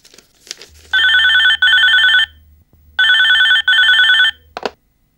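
A telephone rings indoors in a Telugu TV drama scene, two double rings in quick succession, loud and close, with brief faint voices before and after.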